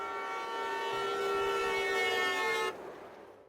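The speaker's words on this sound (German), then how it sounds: "Plötzlich hört er das Hupen eines Autos." A long, loud blaring car horn sounds steadily for a few seconds, then cuts off, leaving low background rumble.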